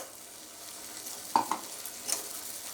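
A tamarind and jaggery mixture for pulikaichal being stirred in a pan, a soft continuous sizzle with a couple of light scraping clinks of a spoon, quiet and close.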